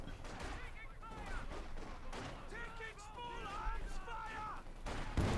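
Field gun firing during a Company of Heroes 2 match, a series of sharp cannon and gunfire bursts mixed with battle noise under continuous commentary.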